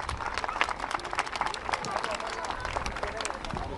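A crowd gives strong, sustained applause for a young Syrian girl who recited the Turkish national anthem by heart, dense clapping with scattered sharp claps and a murmur of voices underneath.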